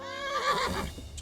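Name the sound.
horse neighing in video game Kingdom Come Deliverance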